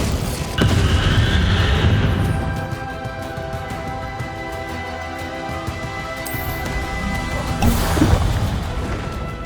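A Bombarda blast spell in Hogwarts Legacy strikes with a sharp, loud crash, a lingering rumbling tail, then a second heavy impact near the end amid combat effects.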